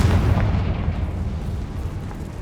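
A Confringo fire spell explosion in the Hogwarts Legacy video game: a single heavy booming blast that decays into a rumbling tail.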